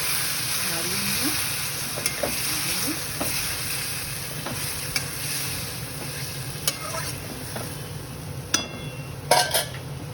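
Bengali-style mutton kosha is stirred in a frying pan over a constant sizzle, with scattered scrapes and a few sharp clinks of the utensil against the pan near the end.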